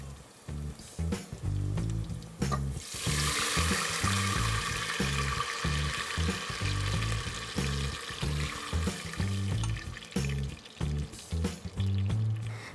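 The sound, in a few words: water boiling in pan for ghee khichdi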